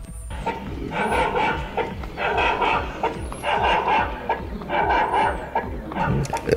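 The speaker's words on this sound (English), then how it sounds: "Introducing the version 2 robotic dog." A robotic dog barks in repeated bursts, loud and close, with yelping and whimpering tones between rhythmic barks over a low droning background.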